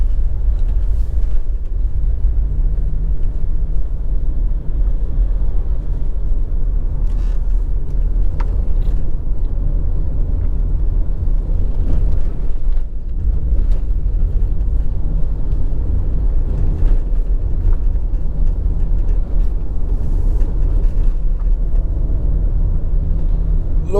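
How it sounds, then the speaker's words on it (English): A car creeps in low gear over a potholed road in rural Westmoreland, Jamaica, its engine rumble steady and close throughout, with bumps and knocks breaking through and wind buffeting the microphone. "I have to draw down on one gear and take on the time and go through them pothole here"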